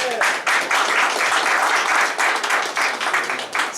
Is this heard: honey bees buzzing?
no